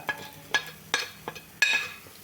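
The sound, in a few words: stirring ginger, garlic and turmeric in a pan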